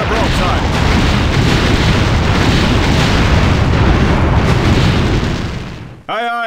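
A long, rumbling volley of ship cannon broadside fire in the strategy game Anno 1602: a continuous roar of overlapping blasts that fades out near the end before a brief new sound starts.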